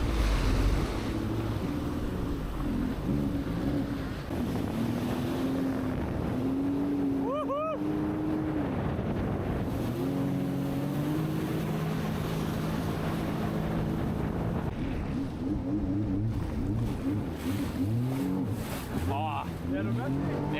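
A boat motor runs steadily on open water near Key West, its engine whine shifting pitch under wind and wave noise, loud and continuous while people talk nearby.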